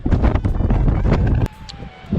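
Strong wind on a ridge buffets the microphone in loud rumbling gusts, then suddenly drops to a quieter hiss with a faint thin tone.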